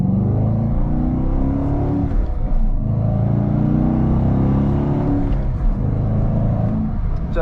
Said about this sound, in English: is pretty much the engine and the sounds it produces, the way it accelerates everything